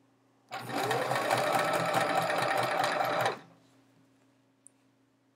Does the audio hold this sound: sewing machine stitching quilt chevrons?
yes